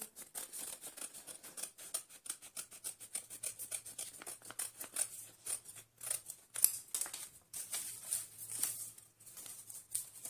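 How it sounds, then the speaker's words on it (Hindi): Scissors snip steadily through fabric while a round neckline is cut, with close, rapid rhythmic crunching clicks continuing throughout and no talking. "अब मैं अंदर वाला पार्ट बाद में काट रही हूँ।"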